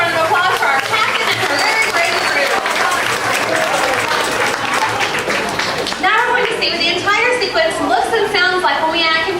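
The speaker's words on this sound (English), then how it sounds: "give a nice round of applause for our captain and her very brave crew" A studio audience claps for a boat captain and crew on a studio backlot tour, with a dense, sustained round of applause running under someone talking over a loudspeaker.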